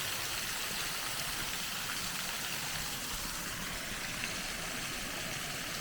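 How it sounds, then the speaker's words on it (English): Light rain beginning to fall in the Terra Cotta Conservation Area: a soft, continuous hiss of drops that holds steady and fairly faint, with a low, distant rumble underneath. "It's just starting to rain."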